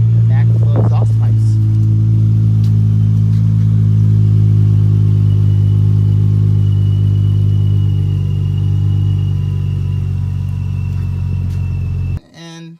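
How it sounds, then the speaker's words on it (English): A Dodge Challenger SXT with MagnaFlow exhaust idles from behind, a deep steady rumble after a brief blip at the start, loud and close, ending with a sudden cutoff. "let's go around to the back and hear the MagnaFlow exhaust pipes"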